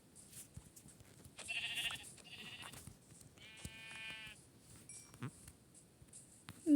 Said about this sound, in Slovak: tu sú ešte aj ovečky